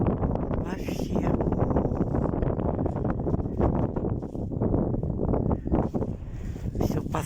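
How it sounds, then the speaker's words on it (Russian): Strong, cold wind gusts and buffets heavily in the open near Zhiletovo, roaring continuously and rising and falling in surges close to the listener. "Ой, гляньте, какой ветер сильный"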